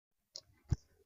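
A computer mouse clicked twice, a light tick followed a moment later by a firmer click, close and isolated in a quiet room.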